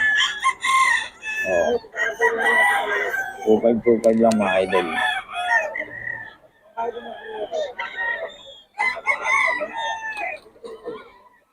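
Several roosters, Pangasinan fighting cocks, crow loudly in overlapping bursts, close by, while someone talks over them throughout.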